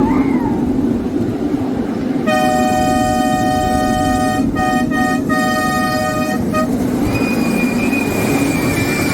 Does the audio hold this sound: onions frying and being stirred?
no